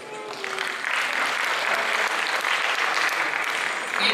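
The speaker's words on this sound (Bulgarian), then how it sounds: "Аплодисменти." A school event audience breaks into sustained applause, a dense wash of clapping that rises after the first half second and holds steady, loud and continuous, to the end.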